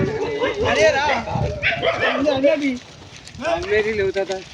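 A dog barks and yips close by, mixed in with people talking over it, the barks coming in uneven bursts.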